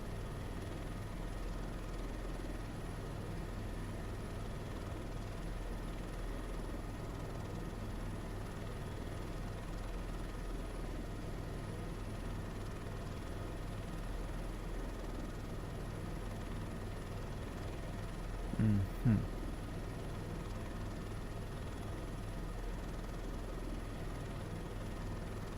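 A helicopter in a flight simulator game drones steadily throughout, a constant low rotor and engine hum with a brief louder bump near the end.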